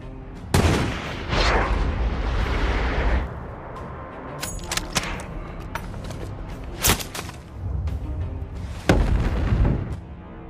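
Gunfire in a film's sniper scene: sharp, loud shots and booms burst out at several moments, separated by quieter stretches of low rumble and ambience.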